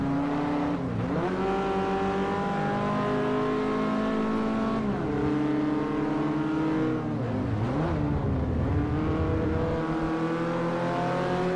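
A small Citroen city car in the racing game Forza Motorsport 4, its engine droning and revving up and down through gear changes, steady and prominent, with no voices.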